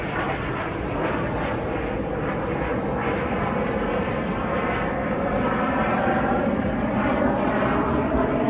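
The Royal Air Force Memorial Flight passes over the Blackpool air show in 2022, its piston aircraft engines producing a loud, sustained droning roar that swells slightly as the planes fly by overhead.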